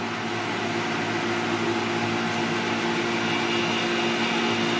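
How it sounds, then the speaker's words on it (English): A vacuum pump runs in a gold-refining setup, pulling solution out of inquarted gold; it makes a steady, continuous mechanical drone with a broad hiss, close and unchanging throughout, with no voices. "now I'm going to light off the vacuum pump, start pulling that solution out of the gold."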